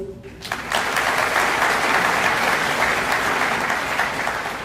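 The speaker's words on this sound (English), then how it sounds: "A round of applause for our projos." Sustained round of applause from a seated audience at a military training group activation ceremony, steady dense clapping throughout, loud and close, with no speech over it.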